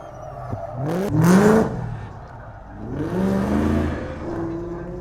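A Ford Mustang drift car at a drift event roars past in two revving surges that rise and fall, heard from a moderate distance with no talk.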